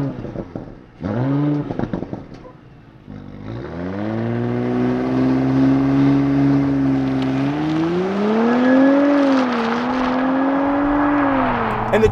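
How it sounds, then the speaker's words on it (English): A 2022 Porsche Cayenne Coupe E-Hybrid with sport exhaust, recorded from outside, gives a couple of sharp revs, then settles into a loud, sustained engine note that climbs and wavers in pitch. "is the sport exhaust on a hybrid, because it actually sounds really good"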